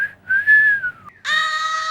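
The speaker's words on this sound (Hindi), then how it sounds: "आप ये सीटी बजाइए, हम रिकॉर्ड कर लेंगे।" A person whistles a melodic phrase, first a gliding tone that rises and falls, then a brief pause and a sustained, louder note held to the end, close and clear with no talk.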